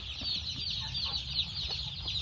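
A dense flock of chicks or young chickens on a poultry farm chirps and peeps continuously, many overlapping high calls close up with no pauses.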